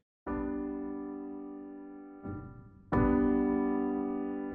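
Ambient piano from Reason 8's Radical Piano, two sustained chords played dry and then through parallel compression; the second chord is louder, fuller and more held, ringing alone.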